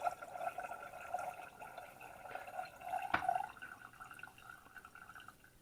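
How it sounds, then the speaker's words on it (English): The plunger of a MyJo Keurig-compatible single-cup coffee maker pressed down slowly, pushing water through the grounds with a soft, steady gurgling and trickle and one sharp click midway. "So take your time slowly pressing it down."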